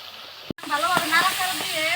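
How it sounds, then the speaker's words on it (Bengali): Pangasius fish sizzles and fries in hot oil in a pan, a bright crackling hiss that swells after a brief gap, with soft stirring bumps beneath. "ভালোভাবে নাড়াচাড়া দিয়ে ভেজে নিব।"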